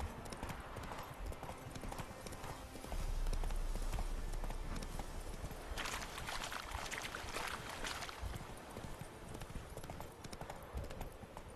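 Horse hooves clip-clop steadily on the ground in The Witcher 3 video game, a continuous rhythmic trot under dense ambient game sound and a low background rumble.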